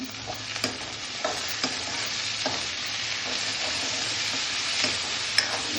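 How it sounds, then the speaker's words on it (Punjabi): Browned onions and chopped tomatoes frying and being stirred in a pan for sarson da saag, a steady close sizzle broken by repeated scraping stir strokes, with no talking. "ਪਿਆਜ਼ ਆਪਣੇ ਹੋ ਗਏ ਬਰਾਉਨ ਤੇ ਹੁਣ ਆਪਾਂ ਇਹਦੇ ਚ ਪਾਤੇ ਦੋ ਟਮਾਟਰ"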